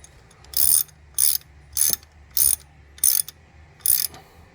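A 10 mm ratchet tightens rocker cover bolts on a Honda K24 engine in a CR-V, giving six evenly spaced, loud, close clicking bursts of the pawl with brief quiet gaps between.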